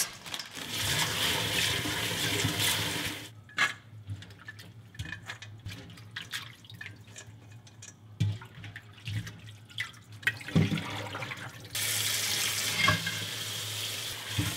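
Soybean sprouts are rinsed under a running kitchen tap, with hissing water, splashing and the rustle of sprouts being stirred by hand, the flow stopping midway and starting again.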